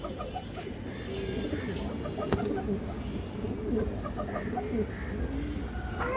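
Green-necked high flyer pigeons coo in low, repeated calls close by, amid a busy, noisy background of other birds and faint voices.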